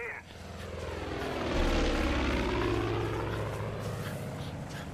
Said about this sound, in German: Oh, diese Flugzeuge.